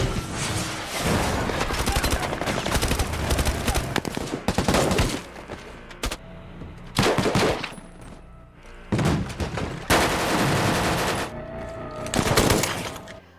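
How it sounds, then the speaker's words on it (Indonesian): Shootout gunfire from the war film Mosul, with dense bursts of automatic fire and loud bangs in several heavy waves broken by brief lulls. "Terjadi tembak-menembak yang epik"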